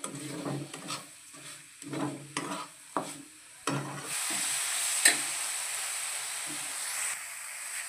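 A spoon stirs coconut filling with raisins and sugar in a pan, giving several scraping strokes at first, then a steady close sizzle and hiss of cooking with occasional faint scrapes.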